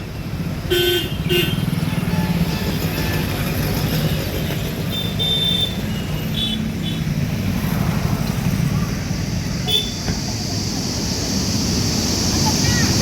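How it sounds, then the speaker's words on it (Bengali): Water released through the opened gates of Kallanai Dam makes a steady broadband roar, with car horns and voices over it. "এই হচ্ছে সেই ড্যাম বাপ রে বাপ জল ছেড়ে দিয়েছে দেখো এখন জল ছেড়ে দিচ্ছে"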